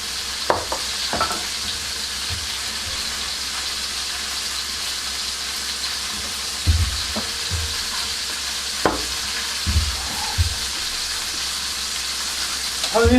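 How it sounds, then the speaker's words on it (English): Mushrooms fry in a pan with a steady, soft sizzle and hiss, broken by occasional low thumps and clinks of cookware, with no talking. "What do you hear? Got a little bit of sizzle."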